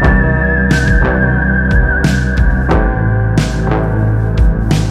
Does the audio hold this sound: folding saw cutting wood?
no